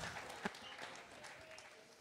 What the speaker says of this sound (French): mesdames et messieurs, on applaudit Michel Barrette.